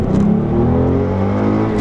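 A stock 2015 Mustang V6 with a 6-speed manual accelerating hard, a loud, close engine drone rising steadily in pitch with no voices over it.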